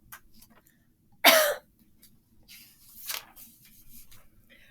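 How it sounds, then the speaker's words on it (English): A single sharp cough muffled into an elbow, followed by a softer second cough or throat clearing a couple of seconds later, close and otherwise quiet. "I can try my best to cough and sneeze into my elbow."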